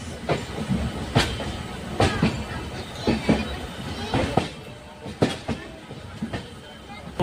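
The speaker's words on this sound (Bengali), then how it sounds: "ঠিক সময়ে ছাড়লো উত্তরবঙ্গ এক্সপ্রেস" The Uttarbanga Express departs and runs, with a steady rolling rumble and sharp intermittent clacks and knocks heard from on board, while voices murmur in the background.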